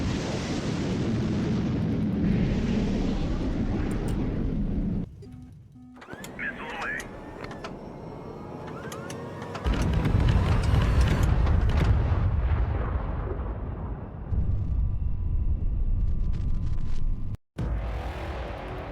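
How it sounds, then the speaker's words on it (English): Test missiles launching in the naval strategy game HighFleet, several heavy whooshing, rumbling bursts with brief explosive thumps, loud and close, mixed with game noise and short gaps. "I'm just launching a couple of test missiles against one of our own ships"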